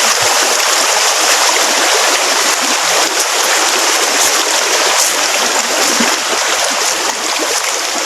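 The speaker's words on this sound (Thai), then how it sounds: "นะครับน้ำลำธารเล็กๆนะครับ" A small forest stream flows and burbles close by, a loud, constant trickling rush of water running without pause and with no voices.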